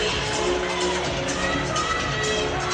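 A dense indoor athletics crowd roars and cheers steadily during a women's mile race, a loud, continuous wash of noise with no pauses.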